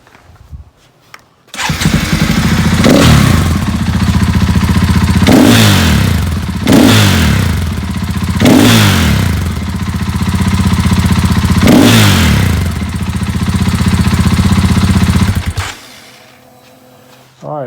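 A KTM XCF-W dirt bike engine starts and idles loudly up close, blipped through five sharp revving surges at a steady rhythm before cutting off to silence.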